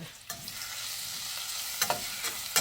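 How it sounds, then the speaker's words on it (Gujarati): Potatoes sautéing in a pan over a raised gas flame for aloo mutter sabji: a steady close sizzle with a few sharp scraping stirs, no talking. "હવે આપણે આને સોતે થવા દઈશું."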